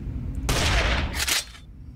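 A gunshot fired in the video game Dracula's Legacy: one loud burst with a brief trailing echo and a second crack just after, close and sharp, with no talking.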